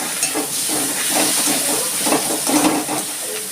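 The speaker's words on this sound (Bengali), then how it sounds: "পেঁয়াজটা আমি একটু লাল লাল করে ভেজে নিচ্ছি" Onions with salt and turmeric fry in a pan, giving a steady close hiss and sizzle broken by soft stirring scrapes, with no voices.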